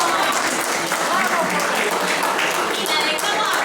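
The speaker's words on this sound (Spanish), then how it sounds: "¡Fuerte el aplauso!" An audience applauds steadily through a training class on watershed planning in Cruz del Eje, a dense continuous patter of many hands, with a voice speaking faintly underneath.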